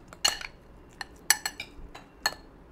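Beaten whole eggs are stirred in a bowl, with a utensil striking the bowl in sharp, irregular clinks, a few quick clusters separated by short pauses, close and clear.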